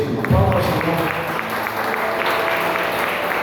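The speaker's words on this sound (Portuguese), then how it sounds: "Você pode aplaudir ao Senhor por isso? Aplauda ao Senhor." A church congregation at a worship service applauds with steady, dense clapping, while a voice speaks briefly at the start over it.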